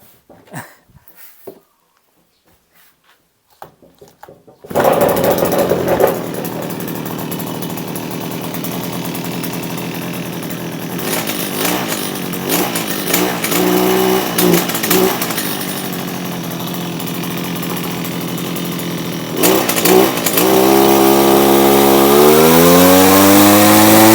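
A few faint clicks, then a small Zenoah BC3401 1.5-horsepower two-stroke brush cutter engine starts, idles with a rattling drone and revs up loudly near the end.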